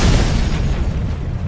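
An ancient Chinese weapon, half bomb and half grenade packed with iron shrapnel, bursts in a loud, close blast whose deep rumbling roar stays heavy for the whole moment without fading.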